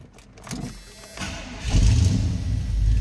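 A 1986 Chevrolet K10 Silverado 4x4 pickup engine cranks and turns over, then settles into a loud, low rumbling idle with some revving, close by.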